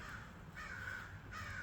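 Crows caw in repeated harsh calls from a short way off, two strong bursts spaced apart over a steady low background hum, with no talking.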